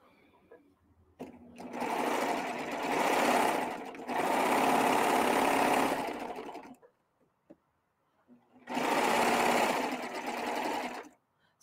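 A coverstitch machine sewing around a shirt armhole, running in three fast, steady buzzing bursts of a few seconds each, separated by short pauses.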